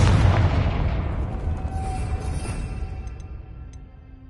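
A Confringo blasting spell in Hogwarts Legacy goes off as one loud, deep explosion right at the start, then rumbles and fades slowly over about four seconds.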